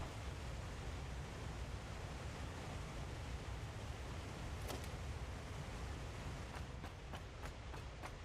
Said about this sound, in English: So this is the waterfall area.